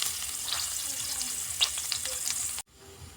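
Onion and garlic sautéing in a pan, a steady close sizzle with scattered stirring clicks that cuts off abruptly near the end, leaving faint background noise.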